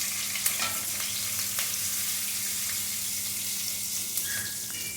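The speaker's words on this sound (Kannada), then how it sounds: "ಈಗ ಗಾಂಧಾರಿ ಮೆಣಸನ್ನು ಹಾಕ್ಕೊಳ್ತಾ ಇದ್ದೇನೆ." Gandhari chillies, broken by hand, sizzle and fry in hot oil for mango rice, a steady close crackle with faint stirring and no talk.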